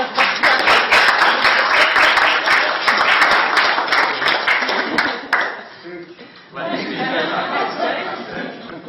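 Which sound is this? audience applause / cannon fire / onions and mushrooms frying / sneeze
audience applause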